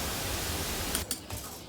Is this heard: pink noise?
yes